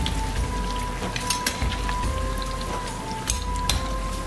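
Potato pakoras deep-frying in hot oil give a continuous crackling sizzle with scattered sharp pops, steady and close, alongside a faint high tone.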